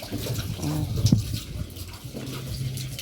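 Water is poured into a garden container, giving a close, uneven gushing and splashing, with brief fragments of a voice mixed in.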